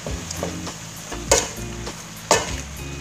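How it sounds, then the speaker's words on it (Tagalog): Beansprouts, cabbage and shrimp with seasonings are stirred in a hot pan, with a steady sizzle and a few louder scraping clanks of the utensil against the pan, close up and with no voices. "mix natin siya para mag-well blend yung ating mga seasoning na nilagay"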